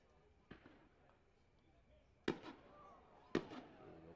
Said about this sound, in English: That's some fireworks right out beyond right field. That's what you're hearing.